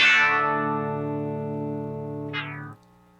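Guitar chords strummed through a Ravish Sitar effect pedal ring out with a bright, buzzy sitar-like drone that slowly decays, followed by a second brief strum near the end before cutting off; no talking.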